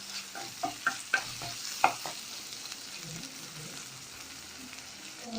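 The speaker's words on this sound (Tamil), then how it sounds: "எண்ணெயிலே கருவாடை வதக்குனா தான் நல்லா வதங்கும்." Dry fish being sautéed in hot oil, with a few sharp stirring clicks and scrapes early on over a steady, soft sizzle that continues quietly throughout.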